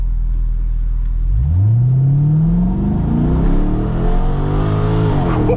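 A C6 Corvette pulls away from a dead stop: a deep idle rumble gives way to a loud, rising engine roar that climbs through the gears in smooth sweeps, heard from inside the car with no talking.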